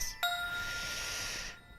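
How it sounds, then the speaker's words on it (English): A single bright synthesized bell tone from a Roland D-05 strikes with a sharp attack, then rings with shimmering metallic overtones for over a second before cutting off. "brassy things, more bells."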